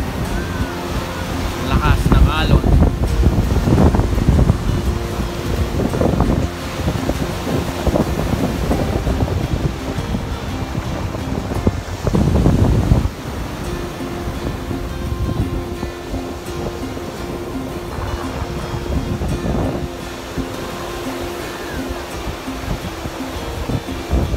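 Steady rushing wind and breaking surf at a Boracay beach at high tide, continuous and fairly loud, with bursts of gusty noise and faint voices in the background.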